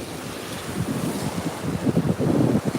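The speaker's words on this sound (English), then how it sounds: "if you're just here to hear the waves, that's okay too" Ocean surf at a beach rolls in as a low, churning rumble under heavy wind buffeting the microphone, swelling louder toward the end with no voices.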